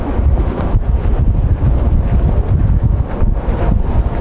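Strong wind buffets the microphone beside the big windmills of Ilocos Norte, a loud continuous roar with gusty swells and no pauses.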